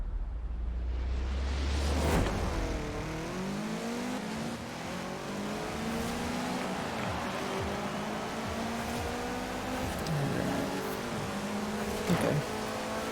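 A Toyota Celica GT-Four racing the Broadway Village circuit in Forza Horizon 4, its engine revving up and down through repeated gear changes, loud and continuous with brief tire squeal.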